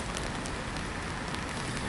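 Rain pattering densely on a poncho stretched over a small shelter, a steady close hiss of drops with no break and no voices.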